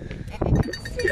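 A Honamlı goat that has just given birth in Antalya lets out a single short bleat, close and fairly loud, with a faint cowbell clink nearby.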